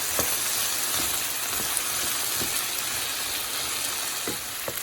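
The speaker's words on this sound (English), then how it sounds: "So saute these, and I put the potatoes in together to saute them until they have a nice color" Vegetables and potatoes sauté in a pan for a meat-and-potato filo pastry filling, making a steady close hiss of frying punctuated by soft regular stirring scrapes, with no one talking.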